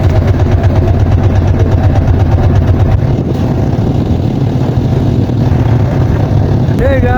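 A trawler boat's engine chugs loud and close in a steady, throbbing rhythm throughout, with a voice speaking over it.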